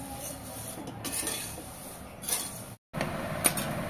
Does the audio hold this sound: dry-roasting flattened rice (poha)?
yes